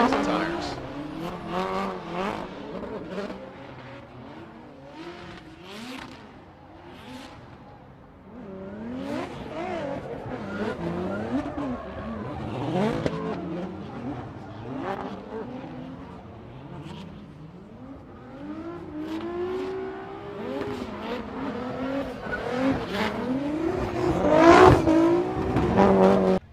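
A Nissan S15 on Achilles tires and a Toyota 86 on racing tires battle at a Formula Drift Atlanta event, with engines revving hard, shifting pitch and bouncing off the limiter, and brief tire squeal, loud and continuous throughout.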